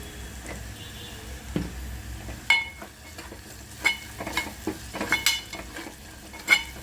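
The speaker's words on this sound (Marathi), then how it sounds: "हा मसाला भाजते यात थोडीशी हळद टाकायची" A spoon stirs masala and turmeric as they roast in a hot pan, making intermittent scraping strokes and light clinks over a soft sizzle, close and fairly loud, with no voices.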